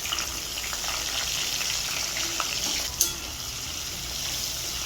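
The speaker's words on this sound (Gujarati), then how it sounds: "હવે આપણે ગરમ તેલમાં જીરું નાખીશું, થોડી હળદી અને મરચું નાખીને આપણે આ રીંગણા વઘારી દઈશું" Stuffed eggplants being tempered in hot oil with cumin, turmeric and chili, a continuous close hiss and sizzle with a brief sharp clink near the middle and no voices.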